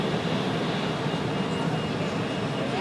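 A jet airliner rolling onto the runway at Zurich Airport gives a steady, broad engine roar, fairly loud and even throughout, with no voices.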